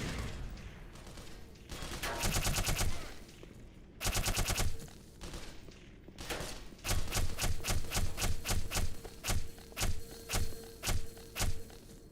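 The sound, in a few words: weapon firing in the video game Black Mesa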